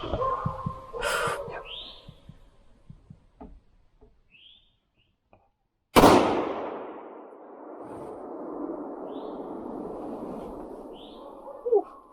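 A single sharp rifle shot cracks out during a deer hunt, loud and close, with a long fading echo. Faint bird chirps and light rustling come before it.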